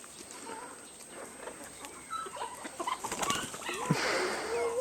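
Chickens clucking and chirping in short bursts amid rustling, fairly close, with the activity growing busier toward the end.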